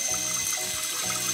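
Water running from a tap into a mug holding baking soda, a steady bright splashing stream that continues throughout with no talking.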